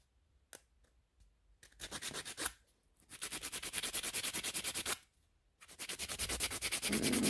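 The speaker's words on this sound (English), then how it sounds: "now what we can do is we can start filing" A nail file rubs back and forth across acrylic encapsulated nails, close rhythmic rasping strokes in long sustained passes broken by short pauses.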